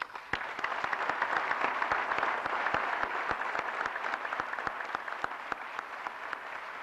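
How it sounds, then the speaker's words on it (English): A large audience applauds at a university commencement ceremony at Al Akhawayn University, giving dense, sustained clapping with sharp individual claps standing out. The applause holds at an even level for the whole stretch. "I would like to join me to applaud them for their support."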